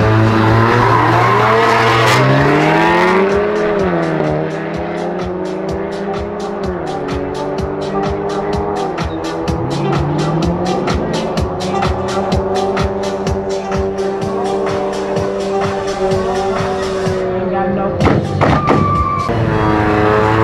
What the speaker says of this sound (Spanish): Calentando los motores.